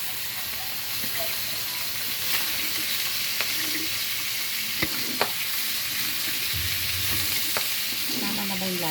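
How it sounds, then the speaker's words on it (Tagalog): Baguio beans stir-frying in a pan give a steady, close sizzle throughout, broken by occasional sharp scrapes and clinks of a spatula against the pan. "magluluto ng Baguio beans"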